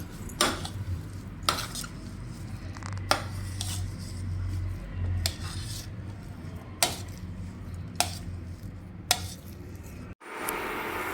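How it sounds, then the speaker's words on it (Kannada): Boiled potatoes being mashed in a vessel for aloo chapati roll, with periodic sharp clinks of a utensil striking the container over a steady low background hum, ending in an abrupt knock. "ಇವಾಗ ಇದನ್ನು ಸ್ಮ್ಯಾಶ್ ಮಾಡ್ಕೋಬೇಕು."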